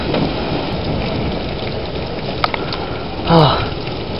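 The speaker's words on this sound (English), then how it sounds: "Big burst of rain." Heavy burst of storm rain with wind, a dense, loud, steady hiss throughout, broken once by a brief startled vocal exclamation near the end.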